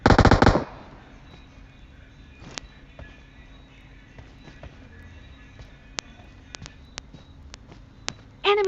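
PUBG Mobile gunfire opens with a loud rapid automatic burst, then sparse single sharp shots and distant cracks over a quiet background, ending with another close burst.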